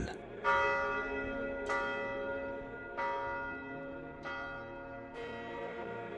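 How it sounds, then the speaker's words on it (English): A large monastery church bell tolls five times at a steady, slow pace, each strike ringing out and decaying into the next, resonant and fairly near. "the peace and silence, almost unearthly, that envelop the place are interrupted only by the sound of the bell"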